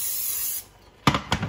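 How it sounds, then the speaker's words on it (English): Vegetable cooking spray hisses from a can into a casserole dish in one sustained burst, followed after a pause by two short, sharp handling clicks nearby. "give this thing a good spray down with a good vegetable spray"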